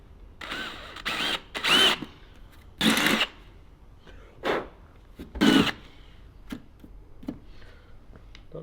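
A power drill boring a 5 mm pilot hole on a Land Rover Defender build, heard as several short, loud bursts of whirring that stop and start, with faint ticks between them.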